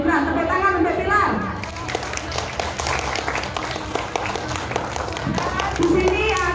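Audience clapping at a congress of Indonesian migrant workers in Hong Kong, a continuous spread of applause under a voice talking at the start and end.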